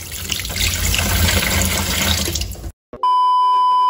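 Water runs steadily and loudly from a tap into a sink while fish are cleaned, then cuts off abruptly and is followed by a clear electronic beep tone.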